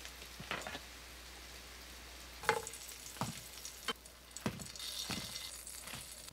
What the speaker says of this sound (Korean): 약한 불로 구워야 겉면이 바삭하면서 단단해서 시간이 지나도 물컹해지지 않는 샐러드용 두부가 만들어져요.